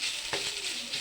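Masala paste stirred in a hot pan with curry leaves for a mussel curry sizzles steadily, with a brief scrape of the spoon partway through.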